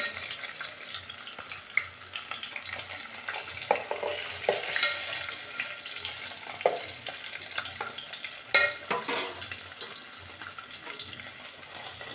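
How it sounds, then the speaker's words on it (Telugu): Eggs fry in oil in a pan for an old-style egg curry, giving a steady soft sizzle broken by repeated scraping stirs and a few louder clatters, close and without talking. "ఇదిగోండి చూడండి చక్క అయితే వేగిపోయినాయి కదా నేనైతే తీసేసుకుంటాను"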